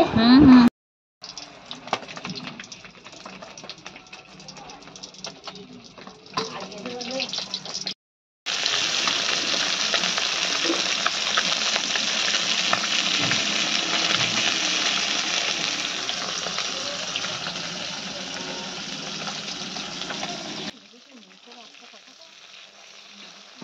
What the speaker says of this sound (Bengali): আর এদিকে একটু মাছের ঝাল করে নেওয়া হচ্ছে, একদম শুকনো শুকনো মাছের ঝাল।